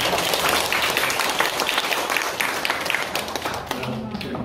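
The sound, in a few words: audience applause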